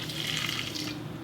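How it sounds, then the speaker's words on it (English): Filtered water pours steadily into a sauerkraut crock for a moment, a continuous splashing stream heard up close with no talk. "so I'm going to add some filtered water so that it's all underwater."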